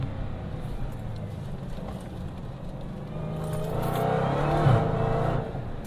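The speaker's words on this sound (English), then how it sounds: "Flying up to this sharp left-hander, flick a few downshifts." Dodge Challenger Hellcat on a drive, engine note building as it downshifts approaching a sharp left turn, a steady close interior rumble that swells and peaks before easing off.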